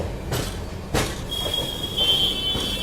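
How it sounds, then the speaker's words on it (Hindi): Train pulling out of Kashi railway station after a long halt, with broadband rumble of rolling stock, two brief bursts early on and a steady high wheel squeal emerging partway through, continuous and fairly close. "ट्रेन काशी रेलवे स्टेशन में काफ़ी समय से रुकी हुई थी, अब जाकर के निकली है।"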